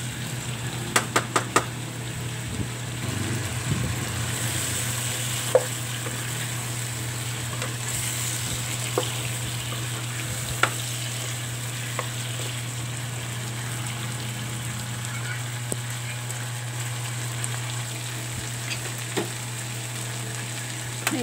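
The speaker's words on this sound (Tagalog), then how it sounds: "Ipa-brown natin ang chicken." Chicken browns in a frying pan with a steady crackling sizzle and a low hum, a few utensil taps and knocks near the start and scattered later.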